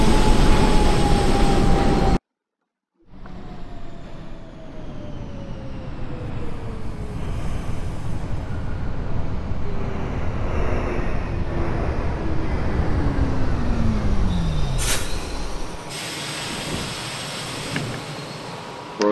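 An R42 subway train on a K line run in the OpenBVE train simulator, with a steady loud rumble of running on rails, a brief silent gap near the start, motor whine falling in pitch as it slows, and no talking.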